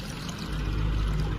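Water poured into a well where fish are being caught, a brief steady rushing pour with a low heavy splash, close and fairly loud.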